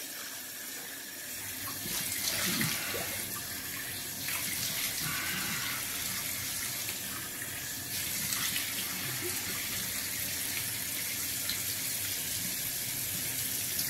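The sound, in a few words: tap water running while rinsing face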